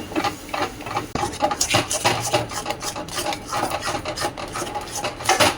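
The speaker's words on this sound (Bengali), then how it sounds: "এই যে বেসনের ব্যাটারটা এটা দিয়ে দিচ্ছি গ্যাসের আঁচটা একদম মিডিয়াম করে রাখতে হবে আর এটাকে ভালো করে নাড়াচাড়া করতে হবে" A utensil stirs gram flour batter in a pan over a medium gas flame, making steady, close rasping and scraping strokes with soft knocks throughout.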